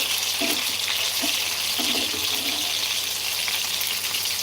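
Fish frying in oil in a pan, a constant loud hiss of sizzling with a few soft clinks of stirring, close and steady throughout with no voices.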